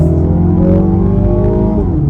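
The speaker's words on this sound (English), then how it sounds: "And this exhaust note, I'm telling you, for a turbo 4-cylinder BMW Mini, they knocked it out of the park." A 2024 Mini Clubman S All4 with a turbocharged four-cylinder engine is driven flat out in third gear with its exhaust droning loud and close, and its pitch shifts near the end as the transmission drops to second.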